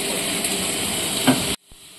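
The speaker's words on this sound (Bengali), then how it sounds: "এখানে কিন্তু মা খুব ভালো করে দেখো ডিমের কারির আলুটা কিন্তু কষে নিচ্ছে" Potatoes for egg curry sizzle and hiss loudly as they are sautéed in a pan, a dense, steady frying noise with a stirring clunk before it cuts off abruptly into near quiet.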